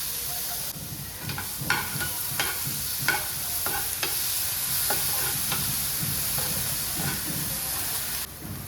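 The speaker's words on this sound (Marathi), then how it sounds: "इथे मी बारीक चिरलेला कांदा घेतला आहे, कोथिंबीर घेतली आहे, टोमॅटो घेतलेला आहे, हिरवी मिरची घेतलेली आहे. आता ह्या तिन्ही गोष्टी आपण छान परतून घ्यायच्या आहेत." Chopped onion, tomato, coriander and green chili sauté in a pan for Masala Maggi, giving a steady close sizzle with repeated stirring scrapes and taps throughout.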